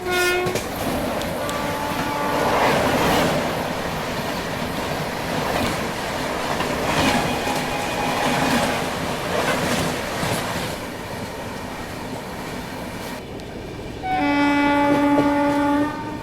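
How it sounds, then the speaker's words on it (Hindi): The Coromandel Express passes near Samalkot Junction, a steady rumble of rolling coaches with clattering wheels lasting throughout, and a loud, sustained train horn sounding close by near the end. "लेकिन शायद से ये कोरोमंडल एक्सप्रेस होगी।"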